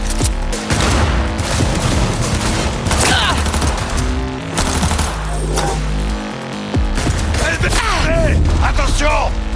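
Rapid bursts of automatic gunfire and booms from the video game Cyberpunk, loud and dense throughout, with a voice shouting over the shooting.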